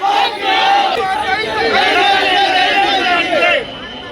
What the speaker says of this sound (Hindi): नाराज लोग सड़क पर बैठकर प्रदर्शन करने लगे